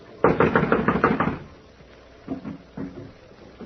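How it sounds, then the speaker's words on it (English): A locked door is knocked on in a radio drama: a quick run of about eight firm raps, then a pause and two separate single knocks, close and with no voices. "I'm going to knock."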